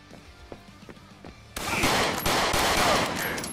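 Rapid automatic gunfire from a weapon in the retro first-person shooter Return to Castle Wolfenstein, a few faint shots at first, then a sudden loud, sustained burst that continues to the end.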